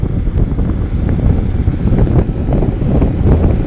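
Strong wind on a ridge road buffets the microphone while riding a Honda Solo Custom motorbike, a loud continuous low rumble with gusty swells and no voices.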